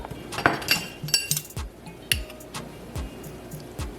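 A spoon clinks against a bowl while sugar is spooned in for a Nigerian akamu corn pudding, giving several sharp, close metallic-glassy taps in an irregular rhythm, with no talking.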